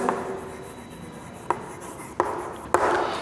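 Chalk or marker strokes on a classroom board during a maths lesson make a steady scratchy drone, punctuated by three sharp taps as the tip meets the surface, with no talk.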